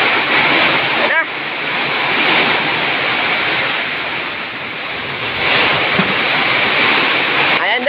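Powerful typhoon wind roars loudly and continuously, buffeting the microphone in a steady rushing wall of noise with a brief dip and surging gusts.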